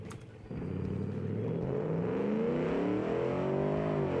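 A modded car engine in a racing video game revs loudly and steadily, a rising, rumbling roar that swells after a brief quieter start and holds strong to the end, with no talk over it.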